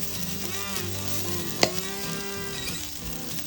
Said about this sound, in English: So it's just a quick stir fry.